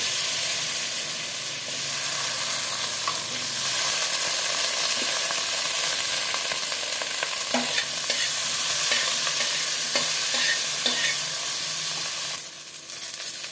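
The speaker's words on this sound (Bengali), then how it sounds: "হলুদ দিয়ে আমি এই ভেন্ডিটাও তুলে নেব ভেজে।" Okra frying with turmeric in hot oil, a continuous close sizzle with scattered crackles and spatula stirring scrapes, steady throughout before a brief drop near the end.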